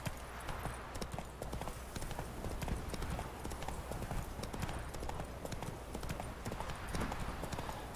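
A horse gallops in The Witcher 3 video game, a rapid continuous clip-clop of hooves throughout, with faint background sound.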